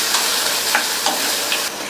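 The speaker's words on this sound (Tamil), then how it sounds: "இப்ப இந்த வெங்காயம், பூண்டு எல்லாமே நல்லா வதங்கி வரணும்." Onion, garlic and curry leaves sautéed in a pan, a constant sizzle with a few soft scraping stirs of a spoon recurring at roughly regular intervals, no voices.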